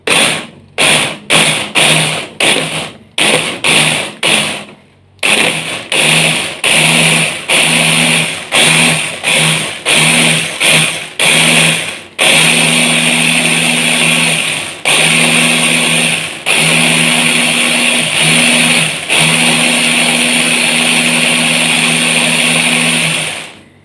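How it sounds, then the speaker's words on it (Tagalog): A kitchen blender whirs on watermelon juice mixed with strawberry syrup, starting in short, loud pulses and then running as a steady, close motor drone with a few brief breaks. "I-blend natin."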